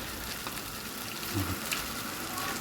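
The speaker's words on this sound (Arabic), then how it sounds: "بيبقبق بقليلي عشان هو فيه نسبه دهون فبيعمل مع السمنه البلدي بيعمل الرغاوي دي" Liver frying in country ghee, bubbling and foaming with a soft, steady sizzle that stays fairly quiet and continuous throughout, with a few faint louder pops near the middle.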